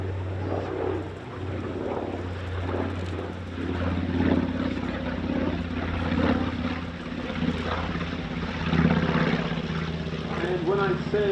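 The engines of a B-25J Mitchell warbird bomber drone steadily in flight, a continuous loud hum with a narrator's voice over it throughout.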